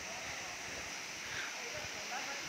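Dabarkhola Waterfall in Badamba, Cuttack, pours as a dense, steady broadband rush of falling water, unbroken and fairly close, filling the scene with even noise.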